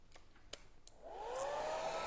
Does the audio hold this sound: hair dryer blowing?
yes